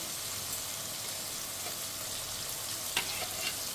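Tomato with ginger paste frying in a pan for a mutton-fat potato curry, giving an even, close hissing sizzle with a few faint pops and one sharp clink near the end, no talking.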